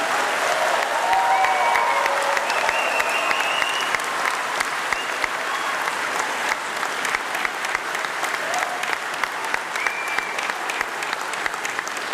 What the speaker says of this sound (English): with a very warm round of applause and hopefully some cheering